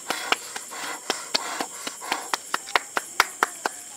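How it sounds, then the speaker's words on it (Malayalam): Hand claps ring out for a newspaper money magic trick, a sparse, fairly regular run of sharp, close claps over a quiet room. "ക്ലാപ്പ് ക്ലാപ്പ് കൊടുക്കൂ."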